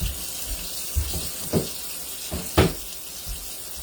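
Cold water runs steadily from a tap into a kitchen sink with its drain covered, a constant close hiss with a few splashy surges as the flow hits the bowl, with no talking.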